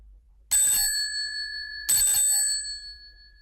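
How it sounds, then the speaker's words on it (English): A doorbell rings twice, two bright metallic chimes with a lingering ring about a second and a half apart, loud and close with no talk. "Then suddenly she ran across the road and rang Holmes's doorbell."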